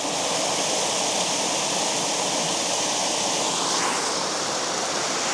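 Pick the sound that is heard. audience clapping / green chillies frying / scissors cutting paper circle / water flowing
water flowing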